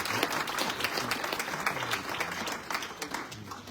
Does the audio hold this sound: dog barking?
no